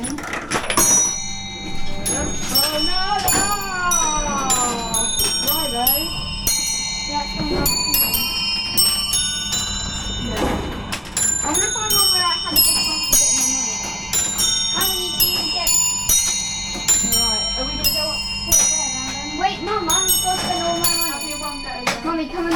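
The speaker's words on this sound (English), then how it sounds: "let's try out this one, which is the bell ringers" An old penny arcade bell ringers machine plays continuously, with tinkling bells and a steady mechanical tune ringing out loud and close throughout.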